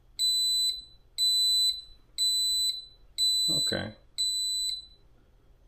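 A digital wall clock's countdown alarm beeps in five regular bursts of rapid high-pitched tones, clear and close, with a brief spoken word partway through.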